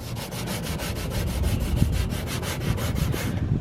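Block sanding of Bondo body filler with 180-grit sandpaper during a car body dent repair: steady, close, rhythmic back-and-forth scraping strokes, loud and continuous with no talking.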